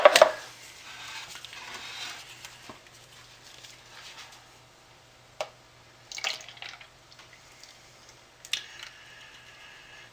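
Water poured into small containers in intermittent bursts, with faint trickles and sharp clinks of vessels between pours, close and otherwise quiet.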